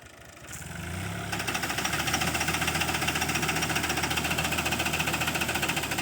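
A steady, loud tractor engine drones and rattles in a fast, even rhythm close by, with a heavy mechanical shake, as the tractor shakes walnut trees during the walnut harvest.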